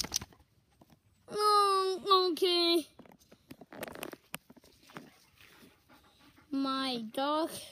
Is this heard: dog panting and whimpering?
yes